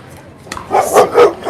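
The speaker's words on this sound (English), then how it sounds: "The dog is not happy with the score." At an outdoor senior pro mixed pickleball semifinal, a dog gives a quick run of about three sharp barks over a faint murmur of background noise.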